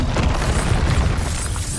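Blasting spell explosion from Hogwarts Legacy, a loud, low, rumbling boom that fills the short moment with dense, sustained impact energy and no voice over it.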